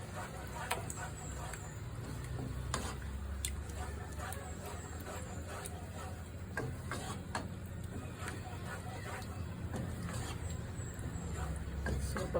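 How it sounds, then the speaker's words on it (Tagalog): A spatula stirs and mixes pancit palabok toppings in a pan, making soft scrapes and light clicks at an uneven pace. Someone talks over the stirring throughout. "mix natin yung ating sahog"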